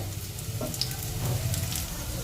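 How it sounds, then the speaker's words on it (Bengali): Oats tikki frying in a pan while being pressed down, a steady close sizzle with a low, even hiss and faint soft contact sounds throughout. "ভালো করে চেপে চেপে দিচ্ছি যাতে মিডিল অংশটাও ভালো করে ভাজা হয়ে যায়"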